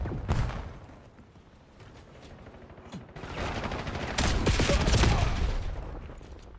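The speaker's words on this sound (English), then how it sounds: "Lobbing cluster grenade" Cluster grenade lobbed in a shooter game, followed by a dense barrage of explosions and rapid gunfire that swells louder toward the end, loud and continuous with no talking.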